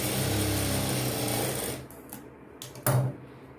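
A sewing machine stitches a folded blouse seam in a steady close run, then stops, followed by a few faint handling clicks and one brief rustle; no talk.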